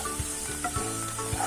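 Tomato chutney with chilli powder being stirred and mixed in a pan: a steady sizzle with a few soft, regularly spaced scraping strokes of the spoon, close and moderately quiet.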